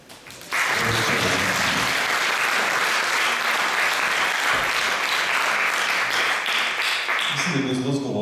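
Loud, dense applause from a cinema audience after a screening of the film "Jaz sem Frenk" at Kino Domžale. It breaks out suddenly and holds as steady clapping for several seconds, with faint voices as it fades.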